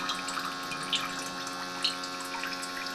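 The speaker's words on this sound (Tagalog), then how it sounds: "lalagyan ng tubig. Ayan, kagawin dyan sa gripo." Water runs steadily from a kitchen faucet into a cooking pot, a soft continuous splashing stream with a few small drip-like accents, fairly quiet and without voices.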